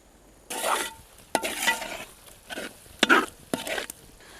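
A roasted, ground masala of red chilli, coriander and pepper gets stirred into a large pan of quail egg roast, heard as several bursts of scraping and sizzling with brief spoon knocks, close and fairly loud.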